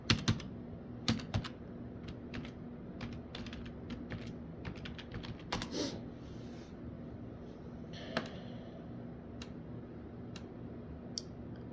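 A password being typed on a computer keyboard: quiet bursts of quick key clicks, denser at the start and around the middle, in a faint, still room.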